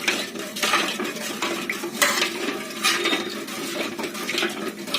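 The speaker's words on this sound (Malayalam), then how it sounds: "ഇനി നമ്മൾ കൈ വിടാതെ ഇത് ഇളക്കി കൊടുക്കണം." Someone stirs a thickening drink mixture in a pot on the stove, with repeated clinks and scrapes of a utensil against the metal pot over a soft wet background, close and moderately loud, without talk.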